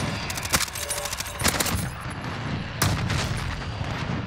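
Rapid bursts of Odin assault rifle fire in the Modern Warfare video game, loud repeated volleys with sharp cracks near 0.5, 1.5 and 2.8 seconds over continuous busy combat noise.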